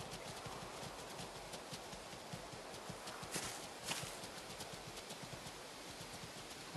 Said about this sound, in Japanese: 足音めっちゃする